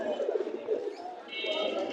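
Pigeons coo in short bursts at a busy pigeon market in Atibazar, Bangladesh, close and moderately loud, with voices talking nearby.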